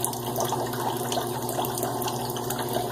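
Water running from a tap and splashing into a sink while shaving lather is mixed, a steady close hiss and trickle lasting the whole moment, no voices.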